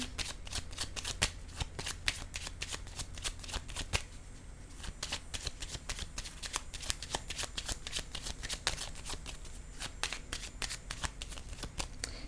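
Tarot cards being handled, shuffled and laid down on a rigid surface, a steady run of crisp, close riffling snaps and taps with only faint speech.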